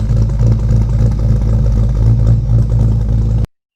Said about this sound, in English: when you listen to my exhaust, it really lopes